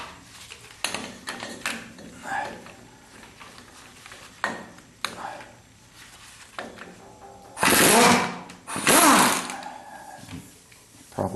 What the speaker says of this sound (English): now I'm going to take the impact wrench and remove one of the two remaining